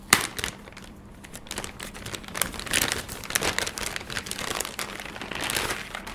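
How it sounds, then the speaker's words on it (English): Crinkly plastic seal being torn and crumpled open on the packaging of an MSI GTX 1050 Ti 4GB graphics card, a close run of crackling rips and crunches lasting several seconds with no talking. "I'm just opening the seal"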